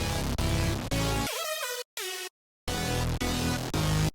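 Hyperpop synth loop with an added harmony layer, loud and dense with steady pulsing hits, a stuttering run of stepped pitches, then an abrupt silent break before the full layered loop comes back.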